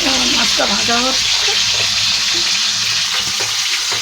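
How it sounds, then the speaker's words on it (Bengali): Tengra, a freshwater fish, fries in oil that is not yet fully hot, giving a soft, continuous sizzle and bubbling; a voice speaks briefly over it near the start. "মাছটা ভাজা হচ্ছে"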